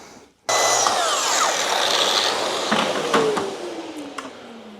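A power saw cuts through a wooden drawer front in one loud, continuous whining rip after a sudden start, close by, its pitch sagging slightly as the blade bites, with no speech.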